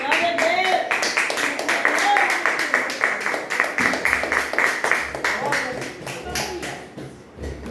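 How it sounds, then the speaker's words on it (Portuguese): A church congregation claps together in a steady rhythmic beat during a Portuguese-language service, loud and close, with a voice speaking over the clapping. "Se você puder aplaudir o Senhor,"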